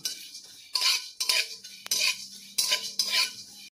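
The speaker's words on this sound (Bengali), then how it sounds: "চালমগজ ভাজা হয়ে গেছে, এবার আমি তুলে নিচ্ছি" Melon seeds (chalmagoj) roasting in a wok on a gas stove, stirred with a utensil in several loud, close scraping and rattling bursts separated by short pauses.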